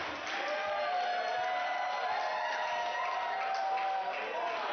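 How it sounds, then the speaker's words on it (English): A wrestling crowd at a Prestige Wrestling show in Roseland chants a steady, sustained cheer for Orange Cassidy, the massed voices loud and continuous throughout with no pauses. "Crowd chanting freshly squeezed, Orange's endearing nickname"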